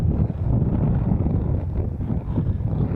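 Strong beach wind buffets the microphone in a continuous low rumble with gusty surges, loud and close, with no voices.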